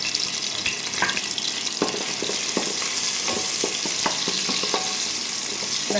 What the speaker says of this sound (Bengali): হালকা করে একটু ভেজে নিই